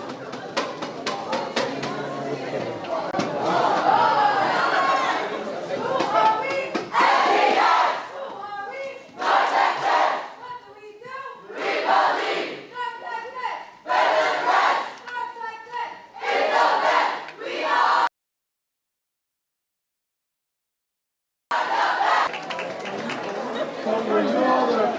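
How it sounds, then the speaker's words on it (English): A crowd at an NHI 2022 awards event cheers and shouts in loud rising bursts, with brief pauses between them and a full cutout near the end. "Hold on, where's the cheer?"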